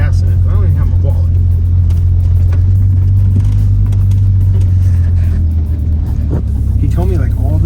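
Abandoned Nissan 300ZX brought back to life, driving on a road for its first run: a steady, loud low engine drone and road rumble throughout, with a voice talking over it.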